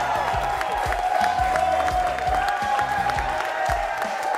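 A New York crowd at a Soul Calibur 6 esports tournament claps and cheers in a dense continuous wash, with a sustained tone running through it and faint talk mixed in.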